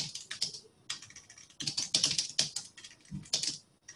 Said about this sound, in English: You're the loudest typer ever.